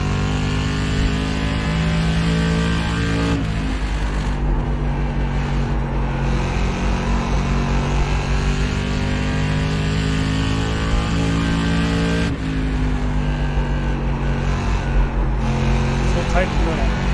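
Stock car engine in iRacing revving hard under throttle, a loud sustained harmonic drone that dips briefly twice as the driver lifts and gets back on the gas, with no talking over it.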